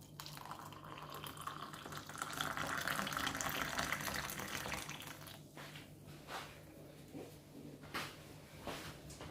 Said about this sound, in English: Watch hot water.